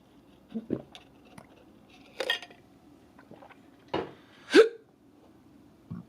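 A man's hiccups, several sharp gulping bursts spaced irregularly, close and fairly loud, with faint clinking of dishes and cutlery in between.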